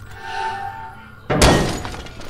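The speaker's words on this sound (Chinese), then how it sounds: "开枪咯" A gunshot sounds in the horror video game Angels of Death (Killing Angel): a single sudden loud crack with a crashing burst that follows quiet, tonal game ambience.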